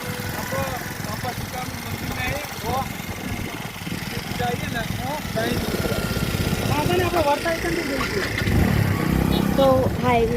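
A Honda Activa scooter's engine hums steadily while riding on a road, a loud continuous drone that grows slightly stronger toward the end, with voices talking over it.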